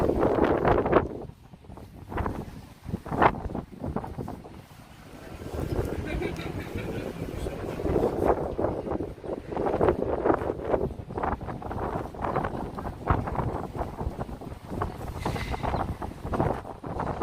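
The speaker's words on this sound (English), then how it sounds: "Strong wind." Strong wind buffets the microphone on a city street among the bars and restaurants of Greenwich Village, New York, a steady broadband roar with gusty swells and scattered background noise, continuous throughout.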